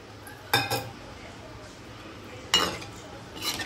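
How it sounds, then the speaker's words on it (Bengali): A spoon scrapes and clinks against a pot of eggplant curry as water goes in and gets stirred, two sharp metallic strikes about two seconds apart over a low kitchen background. "এবার এর মধ্যে আমি কিছুটা পরিমাণে জল দিয়ে দিচ্ছি।"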